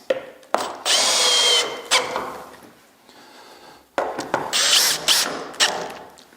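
A power drill drives lag screws through a wooden plank while a bench frame is assembled, heard as two loud close bursts of whirring and grinding separated by short pauses and clicks.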